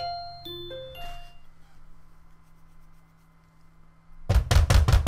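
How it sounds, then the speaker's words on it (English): A run of heavy, close knocks on a door in the visual novel game Katawa Shoujo lands near the end, following a quiet stretch of soft chiming tones. "someone was knocking at my door"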